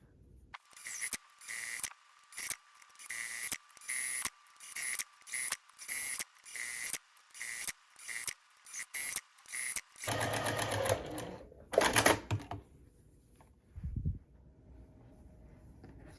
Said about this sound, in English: I'm just going to follow my quilting lines, and I have set my stitch length to about a 3mm setting